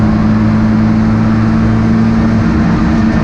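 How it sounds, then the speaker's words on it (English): A Hyundai Coupe race car engine runs loud and close from an in-car position, holding a steady high-rev drone that stutters slightly against the rev limiter near the end. "hitting the rev limiter, you can hear it bouncing off"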